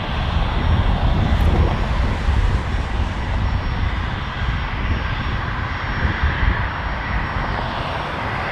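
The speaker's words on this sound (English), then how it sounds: "Triple 7. Going back to Delhi." Air India Boeing 777 jet departing Toronto Pearson, a loud sustained engine roar filling the whole stretch with a steady broadband rush that eases slightly after the first few seconds.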